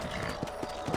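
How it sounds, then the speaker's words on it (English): Horse hooves from the video game Red Dead Redemption clip-clop in a steady trotting rhythm of distinct thumps, moderately close, over a low ambient background. "Let's get back on the horses and see what else is going on."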